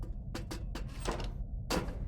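Door opening in the horror video game Poppy Playtime, a few short broadband scrapes and clunks followed by a louder final thud, heard over a low background hum with no talking.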